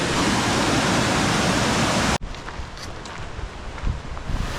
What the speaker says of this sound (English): That's a creek there.